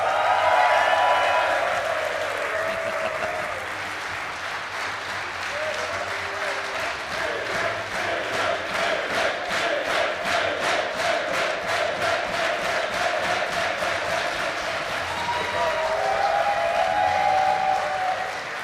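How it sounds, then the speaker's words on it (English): A live esports event crowd at The Garrison claps and cheers in a long, loud, sustained ovation with rhythmic clapping building mid-way, while announcers speak faintly underneath. "That's why they're clapping."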